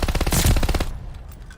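An M1928 submachine gun fires in Call of Duty Vanguard: a fast rhythmic burst of about a dozen sharp, loud shots that stops abruptly, leaving a short fading tail.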